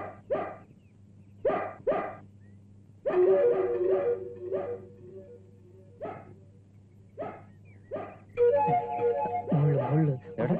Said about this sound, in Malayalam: പട്ടി കടിക്കോ? കുരയ്ക്കുന്നോണ്ട് ചോദിച്ചതാ.